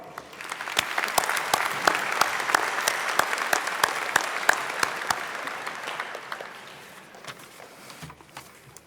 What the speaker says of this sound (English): Please give a round of applause in absentia for Lori Harper